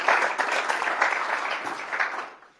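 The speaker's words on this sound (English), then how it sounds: "let's give Mason and the board and the community task force a round of applause for bringing us all together." Applause from an audience at a livestreamed community event, a dense, steady wash of many hands clapping that holds fairly loud for about two seconds and then fades out.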